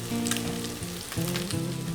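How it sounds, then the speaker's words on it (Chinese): Toast fries in melted butter in a pan, giving a steady close sizzle with crackling pops, heard alone without any talk. "锅里放黄油，等黄油化了以后再放吐司煎。"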